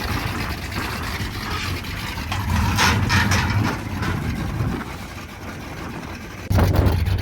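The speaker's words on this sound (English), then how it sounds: "It's really hard to find something better sounding than a couple of muscle cars idling there." Two muscle car engines, including a 1967 Pontiac Firebird, idle steadily with a deep, choppy, lumpy rumble, loud and close, swelling briefly near the end.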